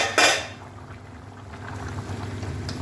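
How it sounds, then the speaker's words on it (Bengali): Metal lid lifted off a cooking pot of cauliflower and egg curry on the stove, one sharp clank near the start followed by a soft simmering background and a faint tap near the end. "ঢাকাটা তুলে দিলাম।"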